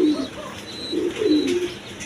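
A pair of Basiraj pigeons cooing up close, a few rolling coos in two bursts, loud and clear with little else around them.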